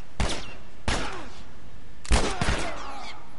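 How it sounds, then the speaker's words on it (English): Gunshots in a shooter video game, four sharp loud reports in two pairs with brief echoing tails between them. "I shot him in the head."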